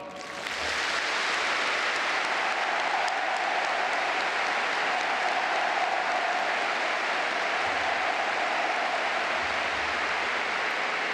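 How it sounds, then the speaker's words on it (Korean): A large crowd in a Pyongyang stadium at a mass games performance applauds President Moon, producing a dense, even wash of clapping that holds steady throughout, heard from a distance. "문재인 대통령에게 다시 한번 뜨겁고 열렬한 박수를 보내주시기 바랍니다"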